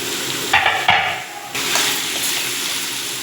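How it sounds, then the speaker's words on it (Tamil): Finely chopped medium tomatoes sautéing in a pan for a Pattukottai-style crab masala, a close, loud sizzle with spatula clinks and scrapes in the first second, then steady frying alone. "தக்காளி வதங்கிட்டு இருக்கட்டும்"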